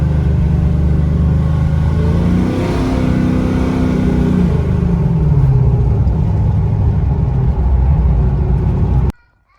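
A Pontiac GTO cruising on the road, a steady loud engine drone with a brief rise in revs midway, heard from inside the car until it cuts off abruptly near the end.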